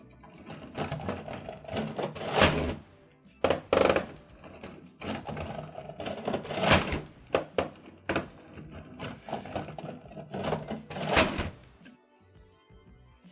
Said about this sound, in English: you just kind of turn the crank at the back, which I've shown you before, and you can see that this seems to be clicking a lot more than usual